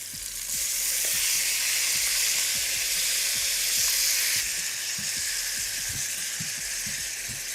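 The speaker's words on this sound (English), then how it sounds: "Put the grill on now, fry that off, and you just grill it." Chicken sizzles loudly and steadily on a hot grill, a constant bright hiss with occasional soft clicks and pops, no voices.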